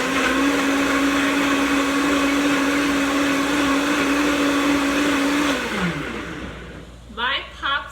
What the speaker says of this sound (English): Let's turn the blender back on.